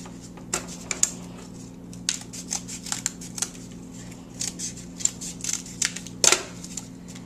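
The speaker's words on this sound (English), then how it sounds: "so I'm going to fold that in half" Cardboard folded in half for mask construction gives a run of crisp, close creasing clicks and crackles, scattered unevenly over several seconds above a faint steady hum.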